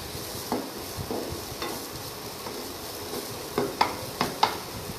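Onion and tomato frying in a pan for khichdi give a steady soft sizzle, with a spoon stirring and scraping in short, irregular clicks that bunch together toward the end. Nobody speaks.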